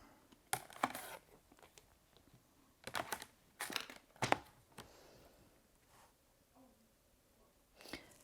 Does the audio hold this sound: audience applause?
no